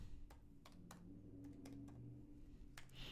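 Fingers tapping out a short word on a computer keyboard, a handful of crisp separate clicks spread irregularly over a quiet low hum, no speech.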